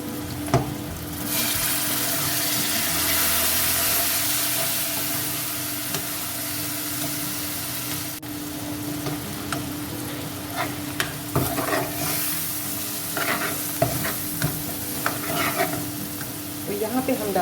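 Water hits hot spices with a loud, sharp sizzle, which settles into bubbling frying over the sound of a spoon stirring and scraping the pan, while cooking ridge gourd bhurta.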